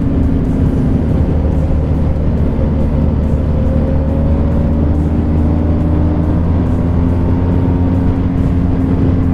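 A 2021 BMW R1250GS motorcycle engine drones loudly and steadily during a ride, its pitch rising gradually as it pulls, heard up close with no talking.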